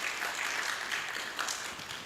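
Conference audience applause, a brief burst of dense clapping from a crowd filling the hall at a steady level.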